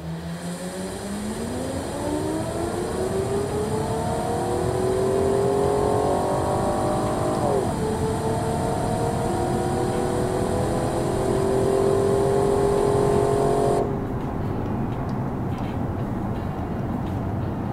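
Simulated turbocharged M&J Type 4 engine in the Automation car game, revving up through rising gear pulls on a quarter-mile run, a steady loud drone with a shift around the midpoint before cutting off abruptly near the end.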